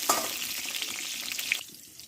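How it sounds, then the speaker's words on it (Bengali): Pointed gourd (potol) sizzles steadily as it fries in a pan for a curd-based potol dish, a bright crackling hiss with faint stirring clinks that suddenly drops away near the end. "পটলগুলো কষতে থাকুক"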